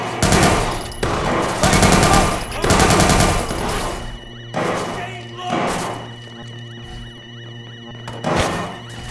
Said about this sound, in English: I think somebody's shooting a gun